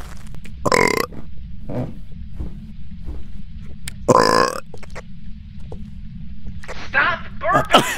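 Two loud, long burps from a young speaker, roughly a second apart, with a shorter throaty grunt between them and more belching noises with voice near the end, over steady background hum.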